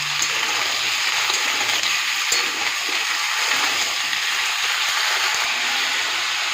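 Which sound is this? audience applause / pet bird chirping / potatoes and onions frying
potatoes and onions frying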